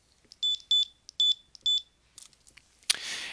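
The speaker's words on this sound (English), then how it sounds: "I'm now going to pull the trigger on the RFID scanner and you'll hear some beeps." Four crisp electronic beeps from a handheld RFID scanner reading tags, evenly spaced and loud, followed by a few faint clicks and a burst of rustling noise.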